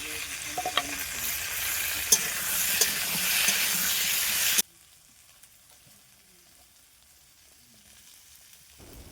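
Vegetables seasoned with salt, turmeric and green chilli frying in a pan while being stirred, a steady close sizzle with scraping that stops abruptly halfway, leaving near silence.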